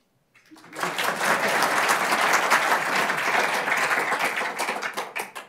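Audience applause at a conference event fills the room, starting abruptly and continuing as dense, steady, loud clapping for several seconds.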